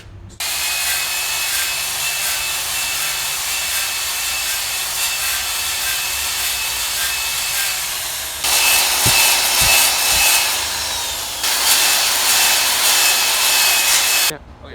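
A steady high-pitched whirring drone of a slow-turning power drill honing a Cummins engine cylinder, with a brief shift in tone partway through and a rougher scraping texture near the end.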